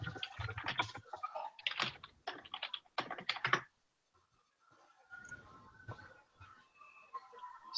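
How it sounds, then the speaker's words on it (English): Computer keyboard keys clatter in quick, irregular bursts of clicks at close range, pause briefly, then resume more softly. "Can you guys hear me typing?"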